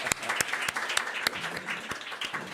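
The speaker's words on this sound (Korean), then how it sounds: "우리 열심히 수고하신 집사님들께 우리 격려의 박수 한번 드리겠습니다" A church congregation gives a brief round of scattered clapping, individual claps distinct and fairly quiet in a room for a couple of seconds.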